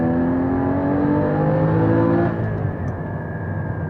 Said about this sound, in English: I love rev matching my own gears.